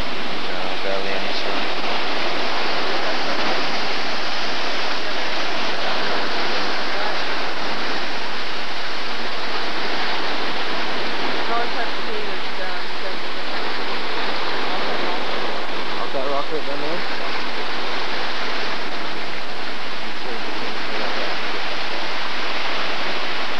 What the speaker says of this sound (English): This is the blue ocean.